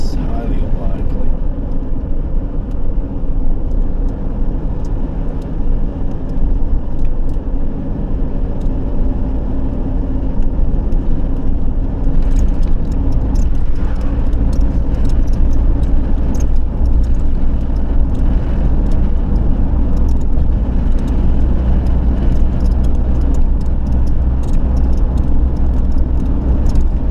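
Car driving on the road, a continuous low engine and tyre rumble with road noise throughout, close and steady, with voices talking over it at times.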